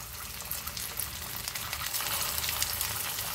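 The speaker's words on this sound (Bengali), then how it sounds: "এগুলো আমি আপনাদেরকে শ্যালো ফ্রাই করে দেখাচ্ছি। খুবই অল্প তেলে," Beef shami kababs shallow fry in a little hot oil, giving a steady, close sizzle with soft crackling pops and no voices.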